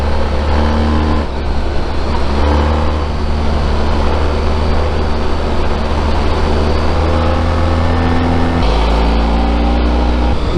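A Honda ST1300 Pan European motorcycle is ridden at a steady road speed, with a loud, continuous low engine hum and wind rush that shifts pitch slightly near the end, heard close without talk.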